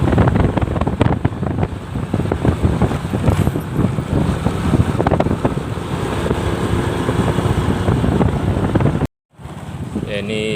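Steady, loud wind buffeting the microphone on a fast motorbike ride near Silengas village, a continuous broadband roar lasting most of the clip before a brief dropout, with no talk over it.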